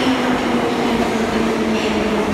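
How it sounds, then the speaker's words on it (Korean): A noisy Saint Petersburg metro train is under way, giving a loud, constant rumble and roar with a faint whining tone running through it. No one is speaking. "지하철을 타고 출발을 하게 되면은 엄청 시끄러워요"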